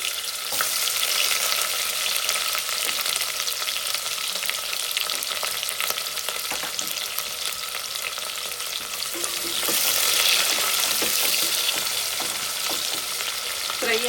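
Onions frying in oil, a dense, loud, steady hiss of sizzling with faint stirring scrapes throughout, swelling slightly near the end.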